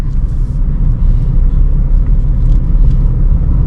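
A car rolls in third gear through a traffic jam without acceleration, a steady low engine and road rumble from inside the cabin.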